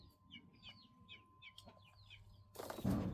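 Several chickens cluck in short, repeated bursts nearby, with a faint steady hum underneath; a louder rustling noise cuts in at the end.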